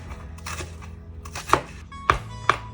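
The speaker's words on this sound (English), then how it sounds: "Peel the ginger, cut on a bias," A knife cuts peeled ginger into thin strips on a cutting board, giving a few soft strokes and then three sharp, distinct chops spaced apart, heard close with no one speaking.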